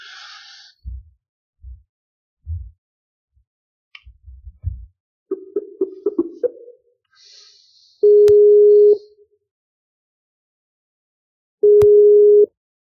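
Telephone tones during a call-in livestream: a few low thumps and clicks, a short run of rapid pulsed tones, then two loud sustained ringback beeps spaced several seconds apart, clear and close.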